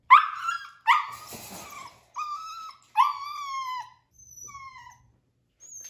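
A young puppy in its first week at a new home lets out a run of high, sharp yips and whimpering barks in short bursts, loud and close, with brief pauses and fainter whines trailing off.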